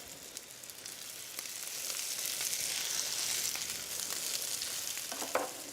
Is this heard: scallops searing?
yes